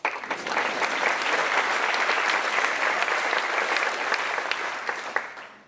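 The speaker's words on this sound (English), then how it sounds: "let's give them a round of applause" A room full of people claps at a county budget presentation by the mayor, giving a sustained, even round of applause that holds steady before tapering off at the close.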